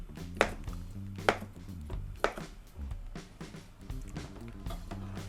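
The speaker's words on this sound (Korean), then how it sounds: "너무 크다 한 번만 더 잘라야겠다" A knife chops chicken sausage on a cutting board, a few distinct thuds spaced about a second apart, with soft background music underneath.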